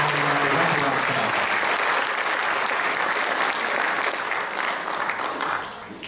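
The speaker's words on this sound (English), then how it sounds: "another round of applause for the Exemplary Service Award winners" Audience applause at a senior awards ceremony for the Exemplary Service Award winners, a dense, steady clapping from a large crowd that holds strong for several seconds before tapering slightly at the end.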